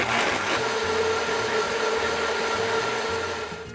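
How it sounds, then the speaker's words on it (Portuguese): A kitchen blender whirs steadily, loud and close, grinding coconut milk with corn, a continuous motor drone that eases off slightly at the end. "Toda essa parte aqui nós já vamos levar para o nosso liquidificador."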